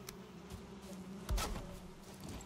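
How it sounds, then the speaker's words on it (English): Bees buzz around a house in the video game Valheim, a steady low hum with a brief louder swell midway as one passes close, no voices. "Another house, more damn bees."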